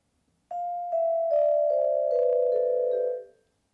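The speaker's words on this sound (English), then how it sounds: "if I play that scale without dampening, it'll sound like this" Vibraphone scale played with notes left ringing, each new tone blending into the last until they smear into a sustained, blurry wash before fading out.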